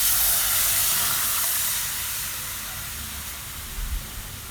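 Carrot soup water boiling hard in a pot, a dense steady hiss and bubbling that fades slightly over a few seconds, close and continuous with no talking.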